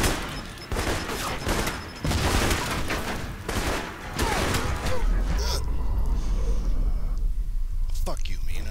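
Rapid bursts of gunfire in the shooter game Alpha Protocol, loud and dense through most of the clip, with breaks between volleys and a talking voice underneath.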